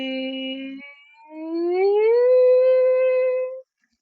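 A single voice imitates an ambulance siren in a theater vocal exercise, a short low sustained tone breaking into a smooth rising-and-falling glide on an "ee"-like vowel, clear and close, ending abruptly into silence.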